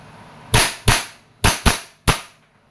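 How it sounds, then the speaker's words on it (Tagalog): A WE M4 RIS gas blowback airsoft rifle fires five sharp semi-auto cracks in uneven spacing, each a close, loud snap with a quick decaying tail and no talking. "Firing. M4RIS WE. Gas blowback rifle."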